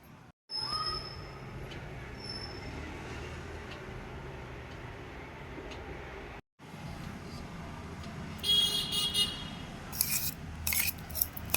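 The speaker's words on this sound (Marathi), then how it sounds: "आता हे आपल्याला बारीक वाटून घ्यायचं आहे." An electric grinder blends garlic, coconut, chilli and sunflower oil into a fine chutney, a steady whirring roar that cuts out briefly, restarts, then rises into harsher grinding bursts near the end.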